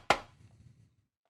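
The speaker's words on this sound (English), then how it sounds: "So I've got a rim shot" One sharp, woody rim shot click with a short bright snap and a brief faint tail, heard alone.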